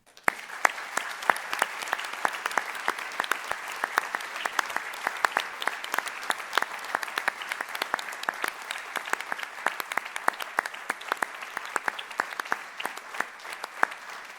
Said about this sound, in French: je vous demande si vous êtes d'accord avec moi de l'applaudir une dernière fois